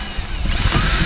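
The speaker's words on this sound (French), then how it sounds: "faire des petits trous à peu près 9 mm du bord" A power drill bores small holes into melamine board for a rack, a close, loud whine that rises in pitch across a single short burst.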